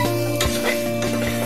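Masala for a Tamil vegetable kulambu with cauliflower is stirred in a pan, scraping strokes repeating steadily over a constant frying sizzle, close and alone.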